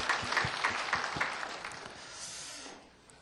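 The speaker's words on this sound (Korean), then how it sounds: "다시 한번 박수하겠습니다." A small congregation at a Korean early-morning church service claps briefly, with a few soft, distinct claps at first that quickly fade into quiet room tone.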